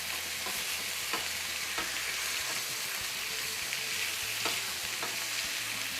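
Chicken fries in a pan with melted butter, giving a loud, steady sizzle that runs the whole time, with a few soft clicks of stirring and no talking.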